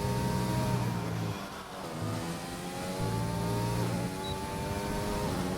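An F1 car in the F1 2020 racing game carries a sustained high engine drone through the final corner, pitch dipping and climbing with gear changes, loud and continuous with no talking.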